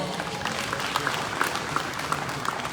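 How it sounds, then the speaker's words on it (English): A fairly faint, steady patter of audience applause greets the only female presidential candidate at a national peace accord signing, with a few sharper individual claps standing out. "Round of applause."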